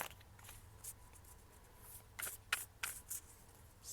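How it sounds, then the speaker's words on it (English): A deck of oracle cards is shuffled by hand, soft papery riffles and quick flicks in uneven bursts, quiet and close, growing busier toward the end. "let me shuffle up once more."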